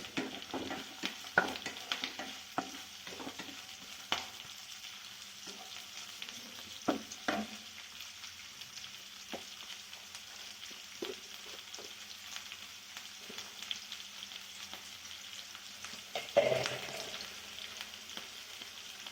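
Raw banana fries in a pan with a continuous low sizzle. A utensil stirs it with irregular scrapes and clicks, and one stronger burst of scraping comes late on.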